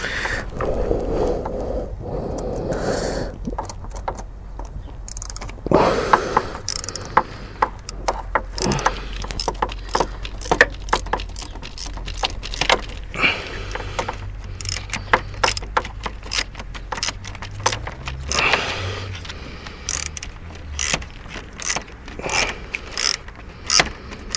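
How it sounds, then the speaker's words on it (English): A Jubilee hose clamp is tightened on the intercooler pipe of a Volvo with an M56 manual gearbox, giving rapid close-up ratcheting clicks and tool taps in bursts over about twenty seconds. "all I'm going to be doing is tightening up the Jubilee clamp"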